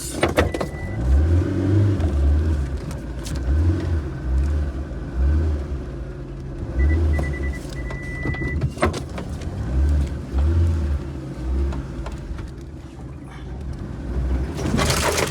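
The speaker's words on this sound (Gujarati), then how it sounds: "ઉપાડો ગાડી" A car is driven on a road, its engine rumbling low and steady up close with a rhythmic thumping pattern and rattling cabin noises, with no voices.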